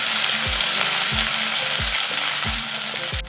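Ginger paste sizzles loudly in hot oil with a black mustard tempering, a steady close frying hiss broken by five regular low thumps of stirring, with no voices.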